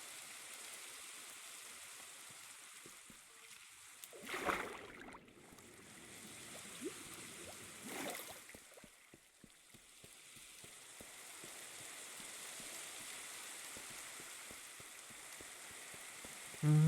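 Rain falls in the Minecraft video game as a soft, continuous hissing patter, quiet and even, with a couple of brief louder swells in the middle.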